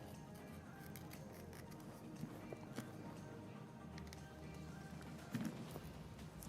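Cutting the adhesive around the screen edge of a Motorola Moto Z Play XT1635 during a screen replacement: faint, close snipping and tapping clicks scattered over a low hum.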